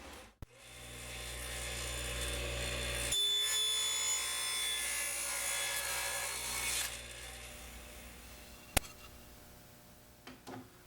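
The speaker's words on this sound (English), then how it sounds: "you can easily clamp the piece to the tenon jig and make those cuts." Table saw with a Super Sled and tenon jig cutting tenons in wood: a loud steady blade whine that dips as the cut changes, then winds down, with a sharp knock and a few clunks afterward.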